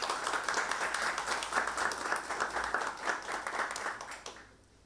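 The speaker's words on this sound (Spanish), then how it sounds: "los invito a darles la bienvenida con un fuerte aplauso" An audience at an expert panel on fleet telematics applauds to welcome the panelists, a close burst of rhythmic clapping that holds steady, then tapers off at the end.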